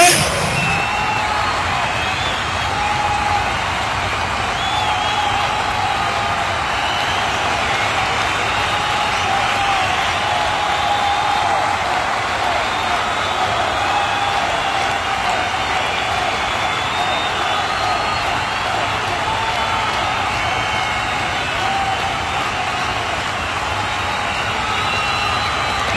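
An audience at the ThugLife trailer launch applauds and cheers as A.R. Rahman is welcomed, a dense, loud, unbroken wash of clapping and shouts lasting throughout.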